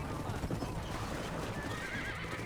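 Horses in the Red Dead Redemption video game: steady galloping hoofbeats running throughout, with a neigh rising briefly toward the end, over a dense busy background.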